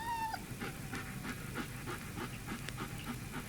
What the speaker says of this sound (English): It was a dog whining and crying.